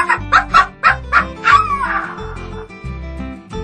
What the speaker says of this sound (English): a skinny dog barked fiercely